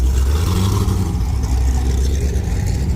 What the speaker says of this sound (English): And then we got little brother right here, that Z06. I'm sure he's boosted too. Sounds good as heck.